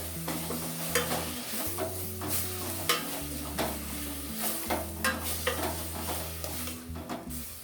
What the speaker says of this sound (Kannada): ಇದೊಂದು 2ರಿಂದ 3 ನಿಮಿಷ ಎಣ್ಣೆಯಲ್ಲಿ ಹಾಗೇ ಹುರಿಬೇಕು.